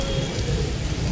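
Heavy rain pours at night in a steady, dense roar, loud and close, with no pauses through the short stretch.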